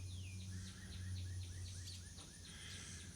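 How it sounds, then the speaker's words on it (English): Swallows chirp in a series of short, quick twitters repeating over a steady outdoor background with a low hum, the calls fairly close but moderate in level. "I like watching these swallows fly around."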